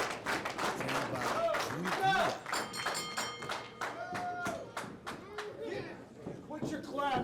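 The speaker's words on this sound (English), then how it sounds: "Quit your clapping." Audience clapping at a wrestling event, a dense burst of hand claps that thins into scattered claps over several seconds, with voices and a commentator audible around it.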